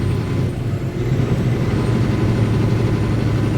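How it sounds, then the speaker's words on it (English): A truck engine labours uphill on a highway at night, a continuous loud low rumble with steady road noise and no talk. "It's a good thing about being light with a strong engine going up this hill."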